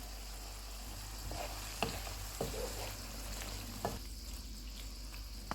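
Chicken fries in a pan over medium heat, giving a soft, low sizzle with occasional clacks of a spoon stirring, fairly quiet and close.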